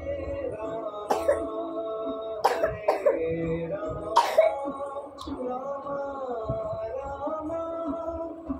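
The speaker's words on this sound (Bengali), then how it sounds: "আমার কাশি হচ্ছে কেন?" A person coughs and clears their throat several times in short, scattered bursts over a sustained droning tone, fairly close and moderately loud.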